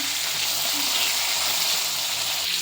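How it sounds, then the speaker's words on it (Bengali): Fish fry in hot oil in a pan, giving a loud, continuous close sizzle with a dense crackling hiss that holds steady throughout. "মাছগুলো আমাদের মাছগুলো ভাজতে বসিয়ে দিয়েছি"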